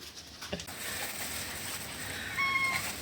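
Cats at feeding time give a faint meow over a steady background hiss, with a brief higher-pitched tonal cry later, all fairly distant and without talk.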